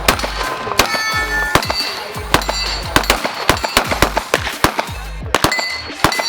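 A Glock G36 compact .45 pistol fired repeatedly at an indoor range, sharp loud cracks in an irregular string, each followed by a short ringing reverberation, with other shots sounding nearby.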